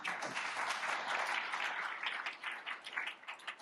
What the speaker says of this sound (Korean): 박수 한번 같이 나눠주시죠.